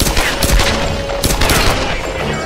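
Rapid handgun shots crack out loud and close during a Tomb Raider combat fight, several sharp bursts in quick succession over game effects.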